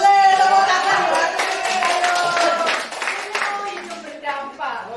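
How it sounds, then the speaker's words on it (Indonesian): Audience clapping at a women's fellowship breakfast meeting, loud and scattered, with voices talking and calling out over it the whole time. "Boleh, tepuk tangan buat"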